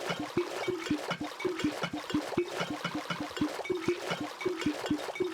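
Water being placed over and over in a blocky building video game, each click giving a short splashing gurgle, repeated rapidly in an irregular rhythm, clear and alone without talk.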